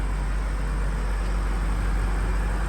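A BMW M5 F90 sedan idles with a quiet, muffled exhaust, a steady low engine hum that holds even and unbroken, with no voice over it.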